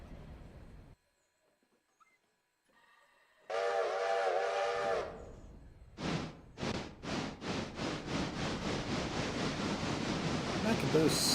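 In the Railroader video game, a train is put into full braking. A loud, tonal squealing hiss is followed by a run of evenly spaced rhythmic chuffs and rumbling from the locomotive after a quiet pause.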